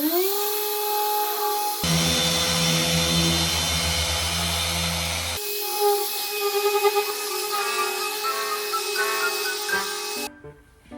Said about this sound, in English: So one thing left to do for this van, that is polishing these scratches